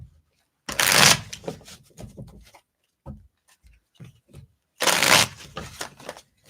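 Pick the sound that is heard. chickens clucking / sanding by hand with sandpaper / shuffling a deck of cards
shuffling a deck of cards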